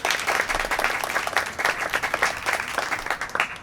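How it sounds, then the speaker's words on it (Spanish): Audience applause at a book launch, a dense continuous patter of many hands clapping at steady volume for the whole stretch, with no voices on top. "También el aplauso para ellos"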